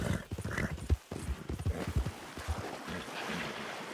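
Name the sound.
horse hooves and neighing in Red Dead Redemption II video game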